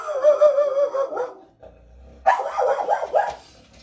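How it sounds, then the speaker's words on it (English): A dog barks in two loud, close bursts of repeated barking, separated by a short quiet gap with a low rumble. "Dogs."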